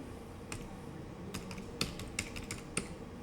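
Keys tapped on a computer keyboard while entering supplier address data into a web ERP form, several scattered keystrokes and a few sharper clicks at moderate distance over a low steady background hum.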